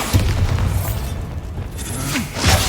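A Bombarda spell explodes in Hogwarts Legacy, a deep, close boom with a crackling burst that swells again near the end.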